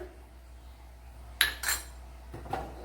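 A metal lid goes onto a pot of simmering sambar with two quick clinks close together, then a softer tap a second later, over a faint steady kitchen hum.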